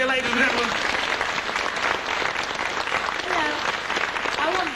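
A studio audience claps for a TV game show warm-up, loud, dense applause filling several seconds while a voice talks over it.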